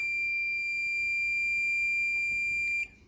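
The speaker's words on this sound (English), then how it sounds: "once you hear that beep, you can let go of your little key" An Amplifi range extender gives one sustained high electronic beep during its factory reset, loud and close, then cuts off sharply near the end.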